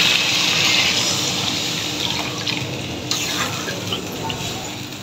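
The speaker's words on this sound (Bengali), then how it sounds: "এখন এই যে কুকারটা জল দিয়ে দিচ্ছি।" Water pours into a pressure cooker holding dal, potatoes and onions, a loud splashing rush at first that tapers to a gentler trickle, mixed with faint sizzling and a brief clink, and no one speaks.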